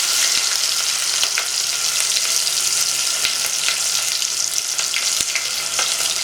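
Spice paste fries with beef in a pan for a Bengali beef curry with chana dal, giving a steady, dense sizzle with scattered crackles and stirring scrapes throughout, close and continuous, no voices.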